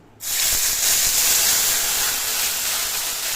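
Onion, garlic cloves, ginger and dried red chilli tipped into hot oil for a spicy pomfret fish curry burst into a sudden loud sizzle, then settle into a steady close hiss that fades slightly.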